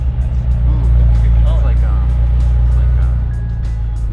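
A Jaguar F-Type convertible cruising during Monterey Car Week, its engine a strong, low, steady drone close by, with wind and road noise, while people talk over it.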